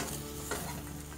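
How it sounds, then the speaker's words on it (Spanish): Pumpkin seeds roast in a pan and are stirred, giving a steady soft sizzle with a brief scrape of stirring near the middle, close and continuous throughout. "Y continuamos en asar la semilla de calabaza"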